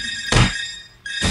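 Two heavy, booming smash impacts land in the Smashero.io hack-and-slash mobile game, each a short dense thud with a crackly tail, about a second apart over a tonal game backdrop.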